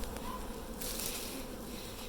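A honeybee swarm drones in a steady, dense buzz, a continuous close hum of many wings without pauses.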